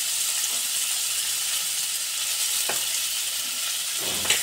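Onion, cumin powder and garlic paste fry in a pan for a singmachar jhol, giving a steady close hiss of sizzling oil with a faint tap or two of a utensil near the end.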